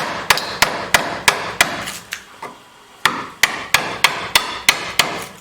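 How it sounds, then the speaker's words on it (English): A regular hammer strikes a chisel while chiseling out part of a metal shop entry door under repair, with loud, sharp, close metallic blows in a steady run, a brief pause, then another rapid series. "you know you're not supposed to use a regular hammer with a chisel"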